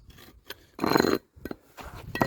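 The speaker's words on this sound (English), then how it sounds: "I would scrape all this out, get what I can out" Hand tool scraping old pointing out of joints between patio slabs, a few separate gritty scrapes and rasps close up, one longer stroke in the middle and shorter ones around it.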